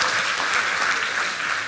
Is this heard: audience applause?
yes